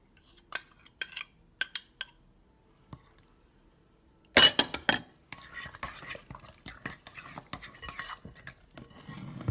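A utensil clinks and scrapes in a bowl as flaxseed egg is mixed in, starting with a few sparse taps, then a loud knock and a run of busy stirring clatter. No one talks.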